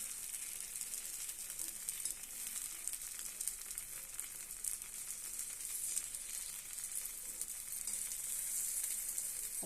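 Kara paniyaram sizzles and fries steadily in a pan, a dense, even crackle close up that holds throughout without pause.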